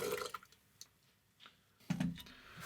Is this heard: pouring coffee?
yes